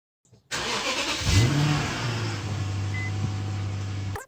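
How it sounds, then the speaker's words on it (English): An Infiniti car engine, from the M45, Q45, FX45, FX35 and M35 range, cranks and starts after a moment of silence, revs briefly, then settles into a steady, close idle that runs alone to the end. "stick it back in and then start the engine"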